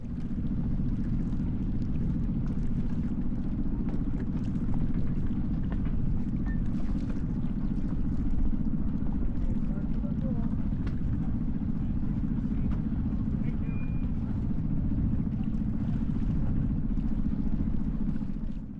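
A sailboat engine runs at high RPM in reverse while docking in strong wind, a steady loud low drone under continuous wind noise for the whole span.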